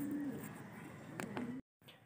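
Pigeons coo softly at a loft in Pagsanjan, Laguna, with low repeated coos in a steady murmur and a brief dropout near the end.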